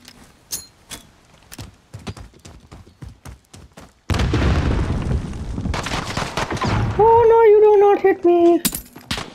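Pistol shots in a video game gunfight ring out as sharp isolated cracks, then a dense burst of firing and clattering effects, with a player's voice chattering between shots.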